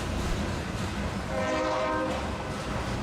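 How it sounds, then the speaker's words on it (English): A BNSF coal train from Signal Peak Mine in Montana rumbles past on its way to Delta, British Columbia, a dense continuous roar with a tonal horn-like sound rising in the middle, fairly close and loud throughout. "This train originated at Signal Peak Mine in Montana and is bound for Delta, British Columbia."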